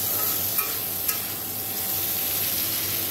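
Five-spice tempering, dried red chili, salt and turmeric fry in hot oil for matar dal with a continuous, moderate sizzle. A couple of faint utensil taps come through, and there is no talking.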